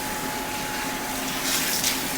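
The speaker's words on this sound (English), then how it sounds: "And now I'm rinsing out your conditioner, right?" Running shower water pours steadily while conditioner is rinsed out of kinky curly hair, a continuous close hiss of spray with a slight surge toward the end and no talking.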